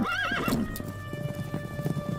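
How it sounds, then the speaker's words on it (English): A cartoon horse gives a wavering whinny, then its hooves clip-clop in a quick, uneven rhythm, close and clear. "I have to water my horse."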